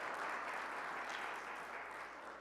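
A morning audience gives Doug a round of applause, a faint, even wash of many hands clapping at a distance, fading slightly at the end.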